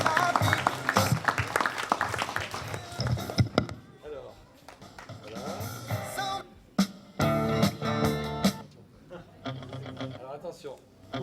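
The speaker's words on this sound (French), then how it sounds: "Sous vos applaudissements, Laure." Audience clapping at a French award ceremony as a best actress presenter is called to the stage, a burst of applause over voices and background music, loud at first then thinning out amid talk.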